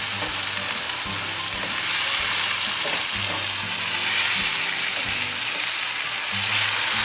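Tomatoes frying in a Lodge carbon steel paella pan over an open wood fire for seafood paella, a steady close crackling sizzle over low rumbling fire noise and occasional utensil knocks.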